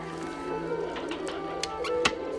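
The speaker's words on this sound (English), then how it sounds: "Grab a pigeon. Blue cage." Pigeon cooing from a cage in a wartime Palestine setting, a few soft low coos and brief calls close by over a steady background hum, with no talk.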